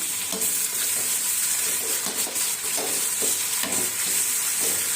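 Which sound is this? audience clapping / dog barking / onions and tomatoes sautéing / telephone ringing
onions and tomatoes sautéing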